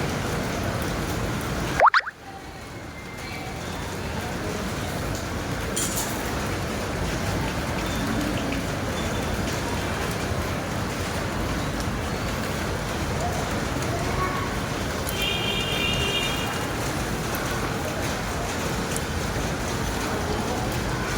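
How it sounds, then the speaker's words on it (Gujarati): Heavy rain pours steadily outdoors as a dense, constant hiss that runs nearly the whole time, with a brief sharp knock near the start and faint voices in the background. "વરસાદ ખૂબ જામ્યો છે બહાર અત્યારે."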